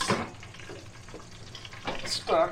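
Hot grease sizzling and crackling steadily as chicken wings fry, with a louder bubbling spurt near the end.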